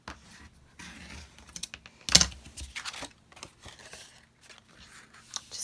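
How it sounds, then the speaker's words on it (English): A circle cutter working through paper for a happy mail craft, with irregular close clicks, scrapes and small crinkles of paper being handled and cut, one sharper crunch standing out. "I should just be able to get away with using my circle cutter"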